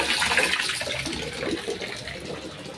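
Water runs steadily from a kitchen tap for the whole stretch, a constant rushing splash with no voices over it.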